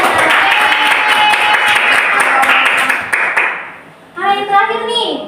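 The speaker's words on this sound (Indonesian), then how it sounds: "Tepuk tangan untuk Jihana." A classroom of students claps loudly for a classmate named Jihana, the applause steady for a few seconds before fading, then a voice speaks.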